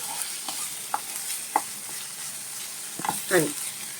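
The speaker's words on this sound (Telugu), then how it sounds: "ఇదిగోండి మసాలా ముద్ద కూడా చక్కగా వేపుకున్నాం కదా." Masala paste for a sea fish curry frying in a pan, a steady sizzle with occasional scrapes and taps of a spoon stirring it.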